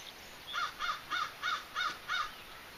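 Black crows caw six times in a steady, evenly spaced series over a golf course, clear but moderately distant, with no talking.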